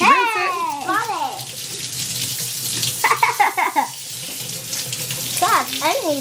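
Homemade butter is rinsed under a running kitchen tap, water pouring and splashing steadily up close while voices, including a child's, talk over it.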